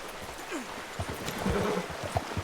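A horse's hooves clip-clopping in a video game, a steady run of soft close thuds over a dense background wash.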